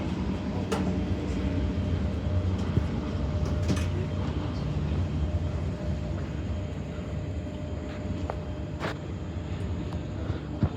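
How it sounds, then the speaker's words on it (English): A freight train rumbles past close by a station platform with a continuous low roar and rattling wheels, punctuated by a few sharp metallic clanks. "freight train rolling past."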